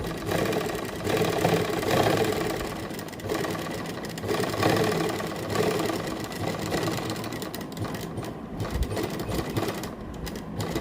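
Sewing machine running to stitch pleats into a ladies' kameez, a steady close mechanical whirring and clatter that continues for about eleven seconds with slight changes in speed, with no talking.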